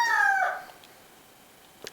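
A hen lets out a short, tonal squawk close by, followed by near quiet with a few faint clicks.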